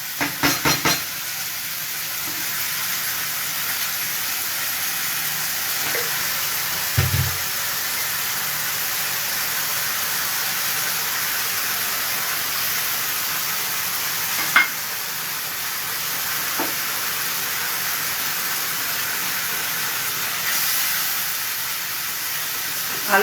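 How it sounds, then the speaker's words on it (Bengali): Masala for kofta curry sizzles and fries over a high gas flame, a steady soft hiss broken by a few brief stirring clatters. "ভালো করে এটা কষতে থাকবো।"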